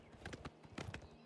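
Horse hooves clip-clopping along a road in The Elder Scrolls IV: Oblivion Remastered, a quick rhythmic run of close, distinct hoof strikes.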